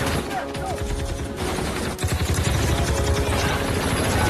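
Gunfire crackles in a film shootout, with dense rapid volleys and heavy booms layered over a loud, busy action soundtrack; continuous and intense throughout.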